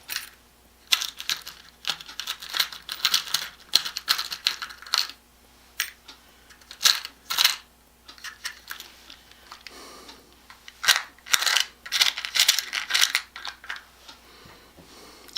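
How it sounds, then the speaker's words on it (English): Small metal screw eyes and screw hooks handled in a pile, giving repeated bursts of light jingling and clinking in irregular clusters, close and fairly quiet, with brief pauses between handfuls. "Now we have a full set of screw eyes, screw hooks."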